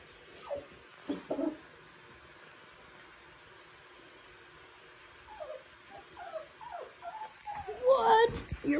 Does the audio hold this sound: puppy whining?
yes